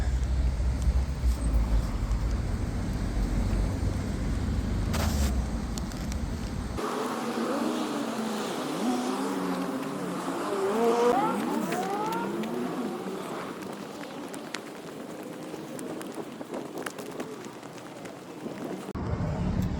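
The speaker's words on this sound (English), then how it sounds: "waiting for the cars to go past" Cars pass along a town centre road beside a derelict pub and a bus stop, a steady close wash of tyre and engine noise swelling and fading as vehicles go by, with no talking.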